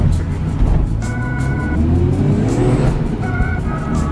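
A car engine revving and droning loudly throughout, with rising pitch sweeps as it accelerates and a faint squeal in the upper range.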